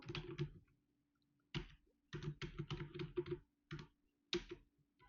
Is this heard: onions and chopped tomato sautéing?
no